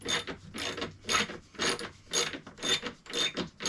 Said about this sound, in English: So, the ones that swivel, you can use the ratchet.